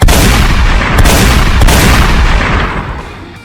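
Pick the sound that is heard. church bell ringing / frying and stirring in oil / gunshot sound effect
gunshot sound effect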